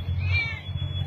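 A rescued cat meows faintly in one drawn-out call, set against a steady low rumble from a fire and rescue scene.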